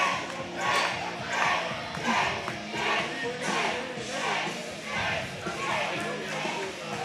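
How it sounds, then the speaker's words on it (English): A crowd at a powerlifting meet cheers and yells in rhythmic surges during a heavy final deadlift, loud and close, with voices shouting encouragement in repeated waves. "Everyone's cheering for you."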